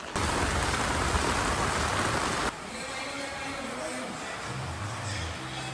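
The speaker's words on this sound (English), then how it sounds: "While the rain was letting up" Steady heavy rain pours down, loud and continuous, then eases to a lighter patter with a low rumble underneath.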